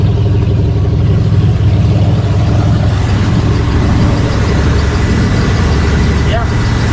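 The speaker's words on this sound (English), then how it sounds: "motors are running good." Houseboat motors run with a steady, loud droning hum, close by and unbroken.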